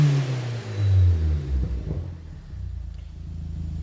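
BMW fitted with a 3-inch Cobra turbo-back exhaust with a non-resonated setup, revving loudly up close with a deep rumbling rise and fall, then settling to a steady burble.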